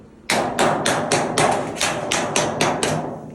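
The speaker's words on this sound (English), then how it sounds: "What I do is I take the hammer" A hammer strikes sheet metal about ten times in a steady rhythm while an HVAC auxiliary pan is fabricated, each blow sharp and ringing, close and loud.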